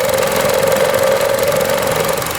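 A 2012 Chevy Cruze EcoTec engine runs up close with a loud, steady idle drone and a fine continuous rattle riding on top, unchanging throughout.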